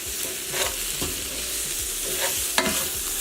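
Bell peppers and onions seasoned with salt and pepper sizzle loudly in a hot pan while being stirred, a dense continuous hiss broken by scraping strokes and a sharp clack near the end.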